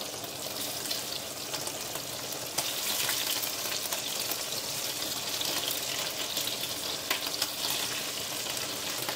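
Prawns frying over low heat in butter that has begun to brown and burn in a pan, a steady close sizzle and crackle with a brief louder burst as they go in, no talking.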